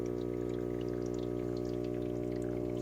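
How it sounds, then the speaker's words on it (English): Water in a 10-gallon slow-moving plenum aquarium trickles and drips softly over a steady tonal hum from the pump, faint and continuous, with no voices. "I believe it's moving water"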